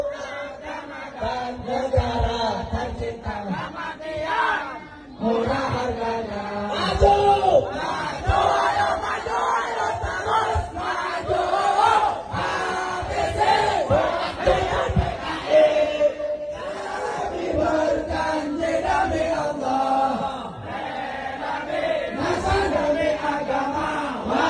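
A large crowd at a religious rally sings and chants together in a loud, continuous, rhythmic swell of many voices, rising in bursts throughout.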